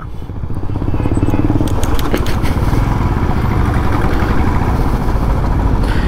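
A Royal Enfield motorcycle engine thumps on a ride, its steady single-cylinder pulse loud and close with wind rushing past, holding an even rhythm throughout.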